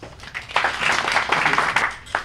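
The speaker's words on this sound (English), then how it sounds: "we greet him with a round of applause" A seated audience gives a round of applause to welcome a speaker at a parish orientation for a Rome pilgrimage, a dense wash of many hands clapping steadily at moderate distance for a couple of seconds.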